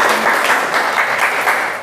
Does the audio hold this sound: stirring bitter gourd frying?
no